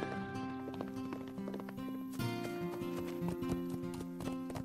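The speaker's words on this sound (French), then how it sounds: "apprivoiser le cheval sauvage qu'ils ont ramené hier" A wild horse's hooves clip-clop in a steady series of close, crisp taps over a sustained tonal background, with no voices.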